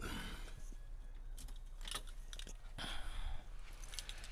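Keys jingle and clatter softly inside a 1970 Chevrolet Chevelle Malibu, with irregular metallic clinks and rustling handling noises over a low background hum.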